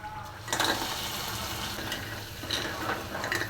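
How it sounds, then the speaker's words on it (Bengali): Chiruni pitha, a Bangladeshi fried sweet, dropped into hot oil, giving a dense, continuous bubbling sizzle with a few sharper splashes and clatters, loud and close throughout. "বাকি পিঠাগুলো দিয়ে দিচ্ছি তেলের মধ্যে"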